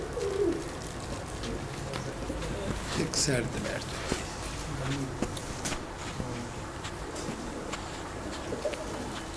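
Pigeons of the Baba Sulemanwale breed from Punjab coo softly in a loft, a few low throaty coos rising over steady background noise while someone talks nearby.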